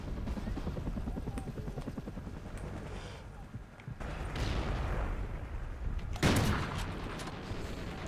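Helicopter killstreak in Call of Duty: Ghosts team deathmatch, a rotor drone over bursts of machine-gun fire and explosions, with a loud blast near the end and a voice talking over the mix.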